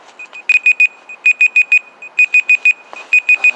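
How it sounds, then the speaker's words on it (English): An alarm beeps sharply and loudly nearby in rapid bursts of three or four pulses, repeating in a steady pattern, with no voices. "my alarm's gone off"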